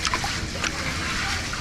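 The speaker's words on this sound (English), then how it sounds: "Make sure that I wash the rice to get the starch out." Rice being washed in water to rinse out starch while cooking omo saabo, a Ghanaian snack; close splashing and sloshing runs throughout the short clip.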